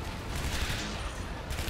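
Rapid gunfire from the first-person action game Shadow Warrior, a dense, loud, continuous burst of shots with no pauses across the short stretch.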